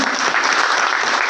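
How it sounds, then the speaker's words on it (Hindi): A crowd claps loudly and continuously for CP Joshi at a political gathering in Udaipur, a dense burst of applause with no gaps. "सीपी जोशी जी के लिए जोरदार तालियों से"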